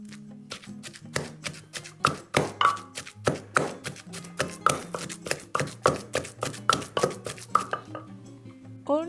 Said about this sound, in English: the ingredients are well mashed and mixed in the mortar